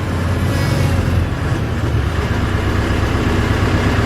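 A dust-control boom machine's engine drones steadily, a low heavy rumble that holds close and loud with only slight rise as the RPMs are raised.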